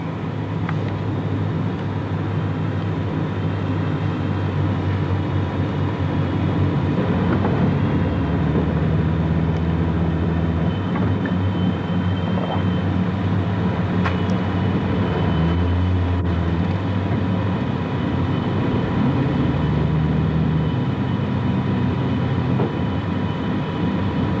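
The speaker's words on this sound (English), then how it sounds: "Here are the other two squadrons making a second pass at the field." WWII bomber squadrons pass over a wartime airfield at Rackheath, a steady, heavy multi-engine drone holding loud and continuous throughout with a deep rumbling hum and no talking.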